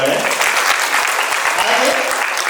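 A hall audience at a birth anniversary function breaks into loud, dense applause, many hands clapping steadily together for a few seconds.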